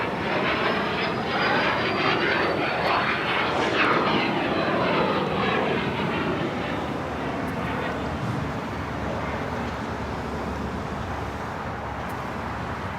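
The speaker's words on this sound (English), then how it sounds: "Eva now starting taxi" An EVA Air jet airliner taxis at Los Angeles International Airport, its engines producing a loud, steady roar with a high whine that slowly fades as the aircraft moves away.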